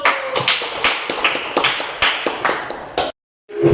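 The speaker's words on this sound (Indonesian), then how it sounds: "Beri tepuk tangan untuk kelompok 1" Classroom of students clapping for the first group, a loose burst of sharp claps close by that stops abruptly and then resumes briefly.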